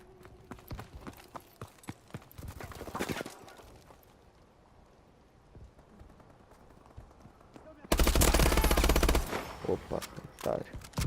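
Video game gunfire crackles in rapid, sharp volleys, sparse shots early, then a loud burst of sustained automatic fire near the end, with players talking over it.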